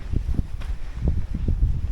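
Gusty wind buffets the microphone in low, rumbling bursts that rise and fall across the whole stretch, with no voices.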